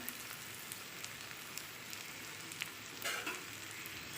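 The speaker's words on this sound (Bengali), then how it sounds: "একটু নারকল কোড়া দিয়ে দিলাম" Pumpkin frying in oil in a pan as grated coconut goes in, a steady soft sizzle and crackle with a brief louder burst of spitting near the end.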